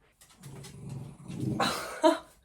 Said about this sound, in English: She's growling at me.